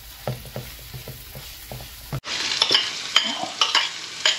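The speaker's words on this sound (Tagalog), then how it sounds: "naluto na niya yung sibuyas at bawang" Onion and garlic sautéing in a pan for fresh lumpia filling, light stirring taps first, then a sudden bright crackling sizzle with spatula scrapes.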